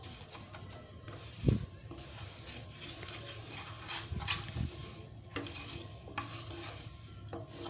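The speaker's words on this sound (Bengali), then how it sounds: "ভালো করে ভেজে নেব গোল্ডেন ব্রাউন হওয়া পর্যন্ত।" Mung dal dry-frying in a pan, stirred to golden brown: soft scraping and rustling of the lentils against the metal with a faint sizzle, a few louder spatula knocks, fairly quiet and close with no voices.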